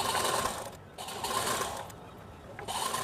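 A sewing machine stitches the bottom hem of a top in close, busy bursts of whirring, pausing briefly twice between runs of steady needle clatter.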